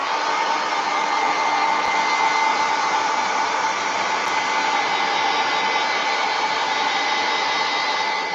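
A hair dryer blows steadily at close range over wet acrylic paint on a mixed-media art piece, a loud continuous whoosh holding even for the whole stretch with no talk.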